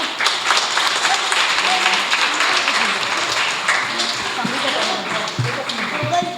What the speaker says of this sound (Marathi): टाळ्या वाजवा भरपूर